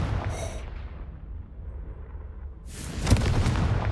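Explosive boom from a Confringo spell in a video game, a muffled blast that fades into a low rumble, then a second sharp burst of crackling impact near the end.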